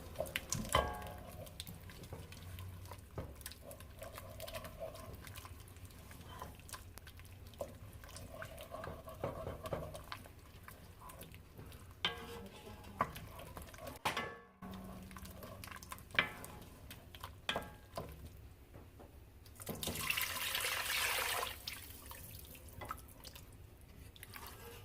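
Beef broth poured into a pot of cooked flour for pot roast, then stirred, giving soft liquid splashes, drips and scattered scraping clicks, faint and close, with a louder pouring burst near the end.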